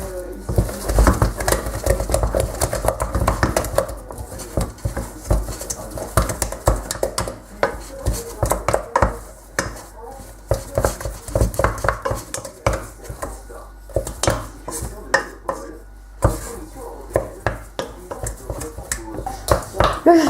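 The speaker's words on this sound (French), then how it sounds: "Et commencez à battre vigoureusement la pâte." Choux pastry dough being beaten vigorously after 150 g of flour goes into the hot liquid, giving a steady run of close, quick thumps and scrapes against the pan.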